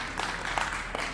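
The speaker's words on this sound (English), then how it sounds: "a round of applause." Audience applause fills a colloquium hall at an event on South Africa's 30 years of freedom, a dense, steady wash of many hands clapping with no voices over it.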